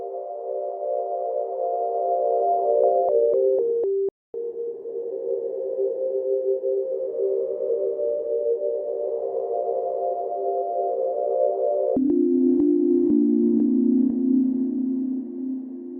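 A reversed synth drone sample holds steady chords with a brief dropout, then shifts to a lower pitch near the end, smooth and continuous.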